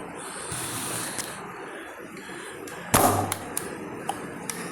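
A medium-sized toy gun fires one sharp, loud snap close by, followed by a few lighter clicks and taps against a steady background hiss.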